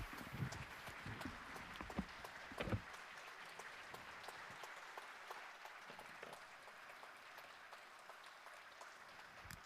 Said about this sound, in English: Let's warmly applaud to welcome Ke Jie.